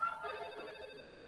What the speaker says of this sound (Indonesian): Saya akan uji coba tes, misalkan di sini akan nelpon ke 1324.